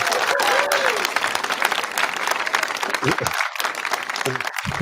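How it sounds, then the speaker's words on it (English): An audience claps continuously at a live stream show, a dense steady patter of applause with voices talking and calling out over it. "Let's get some claps in."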